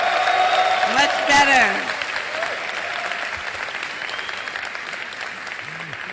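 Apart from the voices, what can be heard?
audience applause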